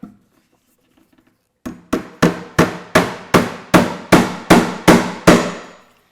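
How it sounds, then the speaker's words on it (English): About a dozen evenly spaced, sharp hammer blows drive 4-penny nails through a half-inch wooden bookcase back, each strike crisp and close with a short ringing decay, after a moment of near silence. "You can use 4-penny nails for this operation because the back is also 1/2 inch, just like nailing through the sides."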